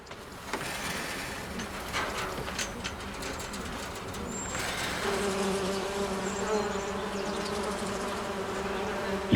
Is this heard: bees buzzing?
yes